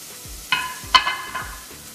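Cumin powder, red pepper, garam masala and salt fry in a pan for palak paneer, a soft steady sizzle broken by a few sharp scraping stirs of the spoon.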